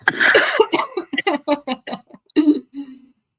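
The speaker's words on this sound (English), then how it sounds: "pardon my coughing" A person coughs several times in a short burst, close and fairly loud, with a throat-clearing sound at the end.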